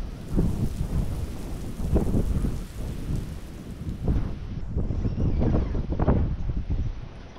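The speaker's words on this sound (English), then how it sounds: "it hasn't stopped bloody raining." Heavy rain pours steadily over a French country garden while rolling thunder rumbles through in several swelling bursts, loud and close, with no voices.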